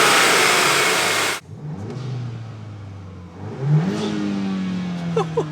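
A 2022 Volkswagen Golf R MK8 with an MST Performance intake, hood open, gives a loud rev that cuts off sharply, then idles and rises in a second, smaller rev with a faint whoosh of air.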